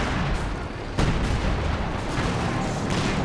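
A howitzer barrage in the video game Company of Heroes 2 roars on as a dense, continuous rumble of blasts and gunfire, with a sharper impact about a second in.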